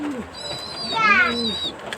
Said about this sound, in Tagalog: Yung kalapati kong kinagat ng daga, si Whitey.